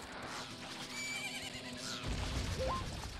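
Epona the horse in the video game Majora's Mask gives a loud, shrill whinny that rises and trails off, followed by a brief crash and game noise, with hoof clatter around it.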